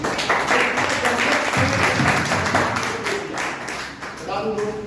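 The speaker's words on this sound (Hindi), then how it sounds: "एक जोरदार ताली होनी चाहिए हमारे एमडी साहब के लिए" A corporate audience claps loudly for the company's managing director, a dense, steady burst of applause lasting the whole stretch, with voices and cheers mixed into the noise.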